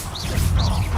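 The Incendio fire spell from Hogwarts Legacy bursts out as a loud, dense magical whoosh and crackle with a low rumble underneath. It lasts about a second, sounds full and close, and has two swelling sweeps.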